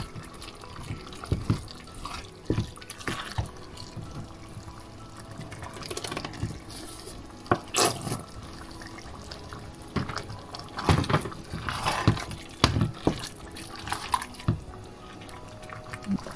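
Water being poured into a pan of simmering bolognese vegetables, carrots and onions, with close, uneven splashing and trickling bursts over a quiet bubbling background and no speech.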